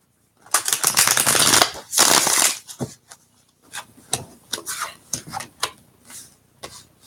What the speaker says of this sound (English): Let's give it one more final shuffle.